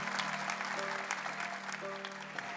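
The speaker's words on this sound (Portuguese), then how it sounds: "Uma salva de palmas para a Adília." Audience applause at a Got Talent audition, a fairly soft, even patter of many hands clapping over a sustained musical tone underneath.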